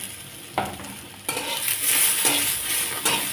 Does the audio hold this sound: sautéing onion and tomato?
yes